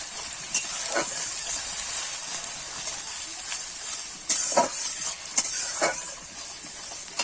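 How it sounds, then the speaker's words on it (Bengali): Ginger-garlic paste fries in a pan while being stirred, making a steady soft sizzle and hiss broken by a few brief scraping knocks from the spoon, close by and without speech. "আদা আর রসুন বাটা এক চামচ দিয়ে দেবো দিয়ে একটু কিন্তু নাড়িয়ে চাড়িয়ে ভেজে নেব যতক্ষণ না কাঁচা গন্ধ দেয়"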